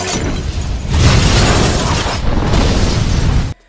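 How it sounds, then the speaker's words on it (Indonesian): Loud explosion in a film scene as leaked gas ignites and destroys a hideout, a dense roaring blast with crashing debris that rumbles on steadily for over three seconds before cutting off abruptly. "ledakan pun terjadi."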